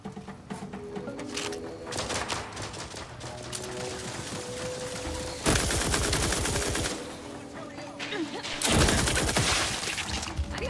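Gunfire in the game The Outer Worlds 2 rattles through a firefight: scattered shots and bursts, then two loud, close volleys of rapid fire that crash out above the background noise.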